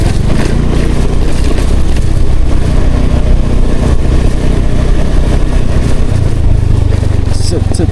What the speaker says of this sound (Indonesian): ini banyak pengendara motor yang menuju jalan ini sih kayaknya